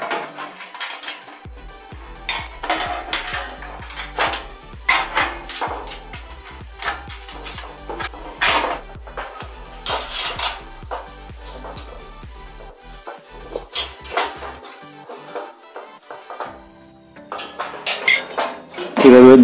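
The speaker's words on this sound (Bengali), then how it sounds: "এইভাবে দুটোকে টাইট করে নিচ্ছি" Repeated sharp metallic clinks and knocks from tightening metal parts on the motor mount of a combined rice mill huller and butterfly machine. The taps come close and irregular, with brief pauses, and there is no talking.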